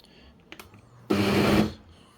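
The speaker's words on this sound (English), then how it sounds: "So I'm just going to give it a bit of a chop first of all." A Ninja soup maker pulses its blades through cherry tomatoes in one short, loud burst of motor whirring and chopping, preceded by a couple of faint clicks.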